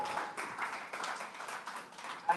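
Applause from a reunion gathering of a school's former classmates at an evening cocktail event, a steady patter of clapping hands spread across the room, moderately faint, with no voices over it.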